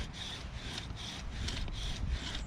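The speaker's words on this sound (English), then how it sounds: "Full strokes of the bow, keeping my left hand locked against my shin and keeping that spindle spinning" A wooden bow drill fire set being worked, the spindle rubbing and squeaking in steady back-and-forth strokes of the bow, a rhythmic wood-on-wood friction heard close and fairly faint.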